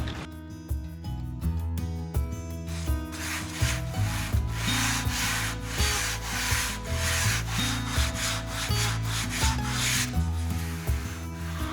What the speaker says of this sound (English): That's your sanding block, Pasky.